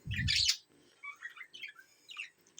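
Budgerigars in a breeding cage give a loud squawk followed by several short, quieter chirps and tweets close by, with no voices.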